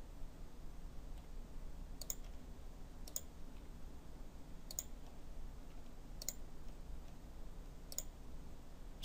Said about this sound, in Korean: 이 부분도 셀렉트 하겠습니다. 클릭, 클릭